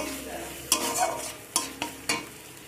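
Tomato, ginger and spices stir-fried in a pan, with a steady sizzle underneath and a few sharp scrapes of a spatula or spoon against the metal at irregular intervals, close and fairly quiet.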